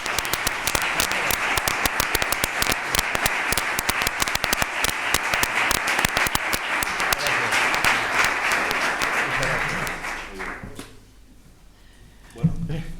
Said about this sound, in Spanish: pediría otra vez un aplauso para Miguel Caballo